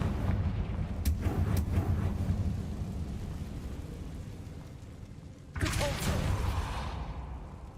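Confringo fire spells explode in Hogwarts Legacy, blasting at a barricade: repeated sharp cracks over a rumbling roar, with a second loud burst near the end.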